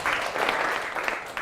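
Classroom of students clapping for a classmate, a dense steady patter of many hands that carries through the whole moment, with faint voices mixed in underneath.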